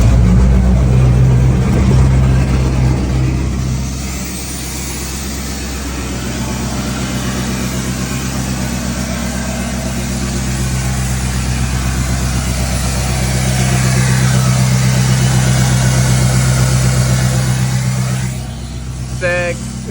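A Peterbilt semi truck's diesel engine running on a cold day, a loud, steady low rumble that swells and eases as it revs, with a brief rattle near the end.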